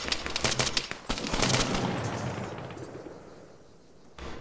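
Rapid gunfire in a combat video game crackles in dense bursts for the first second and a half, then a long fading rumble and echo before another shot near the end.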